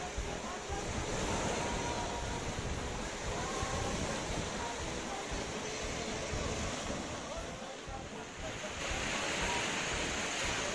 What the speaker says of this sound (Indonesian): Pantai di Pasir Putih Pulau Run